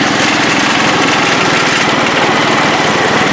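A small engine, likely on a build-off machine, runs loud and hard under heavy load, a dense rapid buzzing drone that holds steady throughout with no talking.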